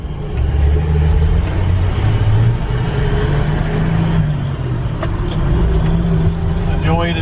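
A 1968 Ford F250 pickup drives along with a steady low engine rumble and road noise from inside the cab while it slows under braking, someone talking over it throughout.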